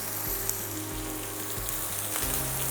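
Shrimp sautéing in a hot pan give off a steady, close sizzle of crackling fat with no one talking.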